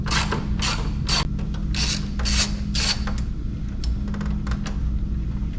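A hand ratchet backs out 10mm bolts from the lower grille of a 2024 Ford F-150, giving loud, close bursts of rapid clicking in several short runs over a steady low hum.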